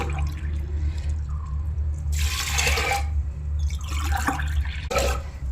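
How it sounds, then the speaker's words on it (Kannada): Water splashes into a metal pressure cooker holding chana dal in two short bursts over a steady low hum, near and fairly loud. "ಈಗ ನೀರು ಹಾಕೋತೇನು"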